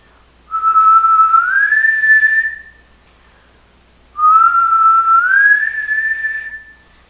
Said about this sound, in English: when you're trying to whistle higher